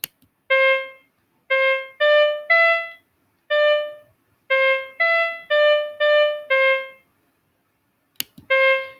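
A simple melody built in Chrome Music Lab Song Maker plays back as crisp electronic tones, stepping through short groups of evenly spaced notes with brief pauses between phrases, clean and up close.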